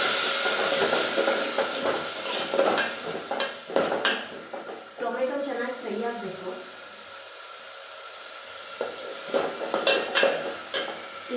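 Tomato goes into a pan of frying ginger and garlic and is stirred. Close oil sizzles and hisses throughout, with scraping stirs and a few knocks of the utensil against the pan. A voice talks briefly over the cooking.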